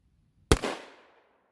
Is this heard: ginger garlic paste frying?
no